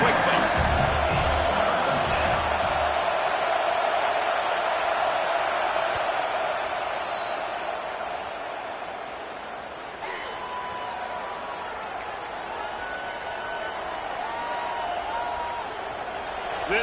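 A large Kentucky football stadium crowd roars and cheers continuously at a big moment in the game, loud and sustained, with a commentator speaking over it.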